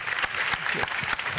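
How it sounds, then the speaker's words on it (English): Conference audience giving a round of applause for the speakers, a brief dense burst of clapping that stays steady and fairly close, with a few faint voices underneath. "A big warm round of applause, please, for our speakers."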